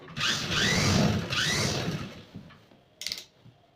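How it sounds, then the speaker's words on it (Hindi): A sewing machine stitching lehenga fabric parts, two short bursts of whirring mechanical running close by, followed by quieter handling and a brief sharp rattle near the end. "इस तरीके से इनको अंदर खिसकाते हुए एक एक पार्ट पे सिलाई लगाएंगे"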